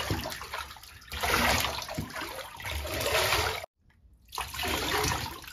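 Running water fills a tub for a Basenji dog's bath, a steady rushing splash that cuts out briefly and then resumes.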